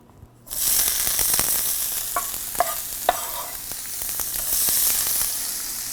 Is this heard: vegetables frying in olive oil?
yes